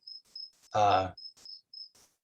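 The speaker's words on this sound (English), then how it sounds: "I'm hearing the sound of crickets" Crickets chirp outdoors in short, evenly spaced high trills, fairly faint, with a brief burst of a voice or other sound breaking in partway through.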